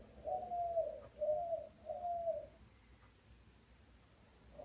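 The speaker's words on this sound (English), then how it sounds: "I have some doves, some pigeons or doves, I can't tell them apart." Pigeons or doves cooing on a back porch: three soft, low coos in a steady row, fairly faint, then a quieter stretch with no talking.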